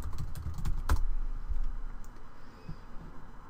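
Quick keystrokes on a computer keyboard, a short cluster of close clicks that stops after about a second, leaving quiet room tone.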